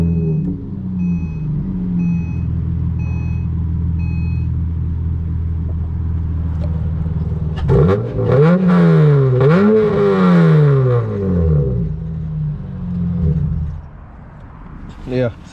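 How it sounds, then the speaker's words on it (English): Straight-pipe exhaust on a 194,000-mile car: a loud, raspy idle rumble that swells into two sharp revs, climbing and falling, before settling back to idle, close and dominating. "It's loud, but it's so raspy. Straight pipe is very, very, very raspy."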